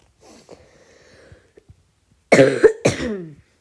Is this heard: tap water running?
no